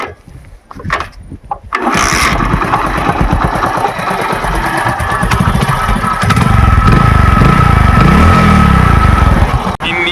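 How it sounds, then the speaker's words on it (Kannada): An old motorcycle engine fires up after a few faint clicks and settles into a loud, close, steady thumping idle, rising slightly toward the end with no talk over it. "ಇನ್ನ ಈ ಗಾಡಿ ಸೌಂಡ್ ಬಗ್ಗೆ ಹೇಳ್ಬೇಕಾ ನಿಮ್ಗೆ"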